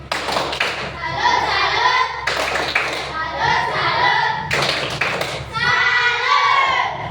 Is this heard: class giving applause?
yes